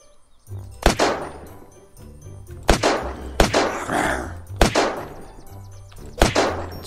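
AK rifle fire in the survival video game Unturned: loud single shots with sharp attacks, roughly five of them at uneven intervals, each with a short ringing tail over a low steady game background.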